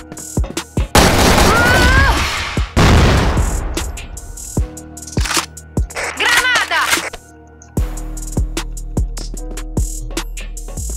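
Grenade blasts and gunfire burst through a CrossFire match, with loud booming explosions, sharp repeated shots and rattling weapon noise close by, mixed with in-game effects and brief voices.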